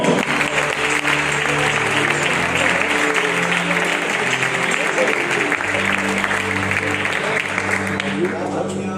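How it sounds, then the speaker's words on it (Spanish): A church congregation applauds in a dense, continuous wash of clapping that holds steady for several seconds, with a murmur of voices and shouts mixed in underneath. "¿Me das un aplauso al Señor?"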